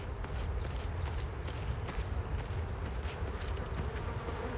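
Steady droning buzz of flies in the video game Hell is Us, continuous and fairly loud over a rustling outdoor ambience with faint footstep-like crunches, no speech.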